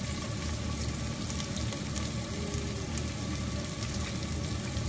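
Nigella seeds spitting in hot oil while preparing mustard hilsa: a steady, dense crackle and sizzle that holds evenly throughout, close and moderately loud, with no voices.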